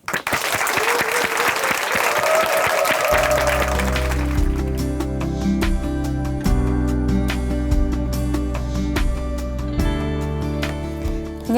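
An audience at a Korean church broadcast applauds to welcome a speaker, dense clapping for about three seconds before steady organ or keyboard music takes over and continues under scattered fading claps.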